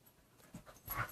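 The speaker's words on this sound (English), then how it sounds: "Look at this dog, it's acting up again." A dog pants in short breathy bursts, ending with a brief whimpering whine, quiet and close in an indoor room.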